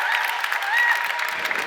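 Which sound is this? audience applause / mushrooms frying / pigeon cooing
audience applause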